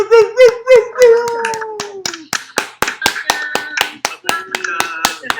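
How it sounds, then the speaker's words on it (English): Rapid hand clapping, steady and close, with a voice and crying-like vocal sounds mixed in at the start. "I'm certainly going to unmute and clap"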